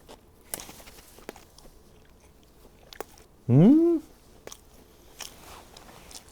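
Bites into a thick Lawson convenience store katsu sandwich with pork cutlet and mayonnaise, producing faint crunchy chewing clicks and a short, loud voiced sound midway.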